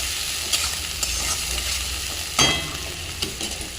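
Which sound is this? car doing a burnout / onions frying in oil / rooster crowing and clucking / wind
onions frying in oil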